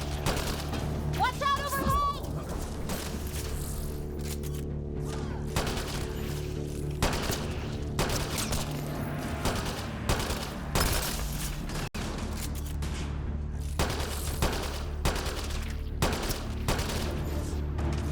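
Rapid gunfire rattles almost without pause in a firefight against Kett in Mass Effect: Andromeda on Kadara, with loud bursts and impacts over a steady low hum, while voices call out amid the shooting.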